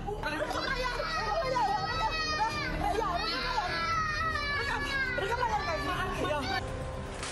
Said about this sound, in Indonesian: terdengar tangisan anak kecil